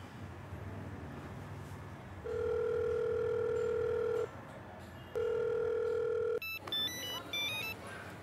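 A telephone call is placed in a scene from the Hindi film Sirf Ek: two long, steady dial tones with a short gap between them, then a quick run of bright keypad beeps.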